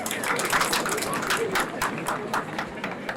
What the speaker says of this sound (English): Can we clap for them?